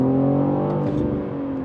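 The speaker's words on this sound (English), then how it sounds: "Just entering this turn, power on the throttle." BMW M3 Competition G80 accelerating under throttle into a turn, a loud, steady engine drone with layered harmonics that holds strong throughout, easing slightly toward the end.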